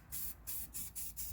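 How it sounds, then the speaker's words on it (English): Short bursts of spray paint hiss onto a glitter tumbler, four or five quick spurts in even rhythm, close and fairly loud, with brief gaps between them. "So let's go ahead and spray paint it."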